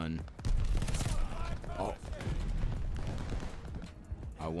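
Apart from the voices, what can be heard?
Itra Burst gunfire in video game Call of Duty Vanguard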